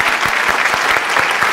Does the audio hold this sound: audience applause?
yes